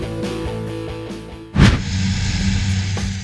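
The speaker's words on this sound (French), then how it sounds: "ce puissant Fendt 1050 Vario prépare le lit de semences et plante des pommes de terre en un seul passage" A Fendt 1050 Vario tractor preparing a seedbed and planting potatoes in one pass in a Belgian field, its engine a steady loud drone that rises sharply midway and holds at a higher, fuller level.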